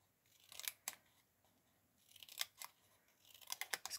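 Scissors cut paper for a picture frame in a series of faint, close snips, arriving in short irregular clusters with quiet gaps between.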